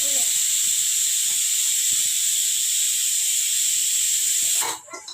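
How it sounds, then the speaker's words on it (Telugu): A pressure cooker cooking mutton gravy lets out a loud, continuous hissing steam whistle close by for several seconds before it abruptly cuts off, leaving faint background clatter. "ఇంకొక విజిల్ వస్తే మటన్ గ్రేవీ రెడీ అయిపోతుంది"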